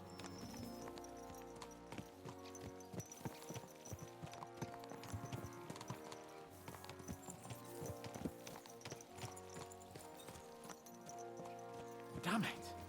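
Horse hooves clip-clop in a steady trotting rhythm under layered game music and ambience in Kingdom Come: Deliverance 2, with a voice speaking over the scene.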